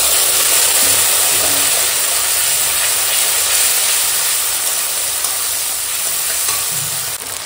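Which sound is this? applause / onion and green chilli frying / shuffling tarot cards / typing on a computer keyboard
onion and green chilli frying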